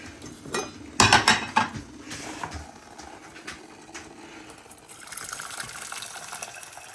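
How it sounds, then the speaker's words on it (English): Boiling water pours and splashes into a medium metal saucepan with a brief clatter of cookware, then settles into a softer, steady trickle. "pour the boiling water into a medium saucepan"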